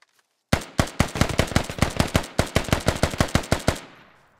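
Rapid automatic gunfire in a military video game: one sustained burst of about three seconds of sharp, evenly spaced loud shots, close and clear, then a short fading tail.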